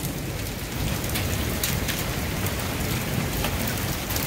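Heavy rain, with hail reported, pounds down steadily and close in a severe storm, a dense unbroken roar of drops hitting surfaces with scattered sharper impacts throughout and no voices.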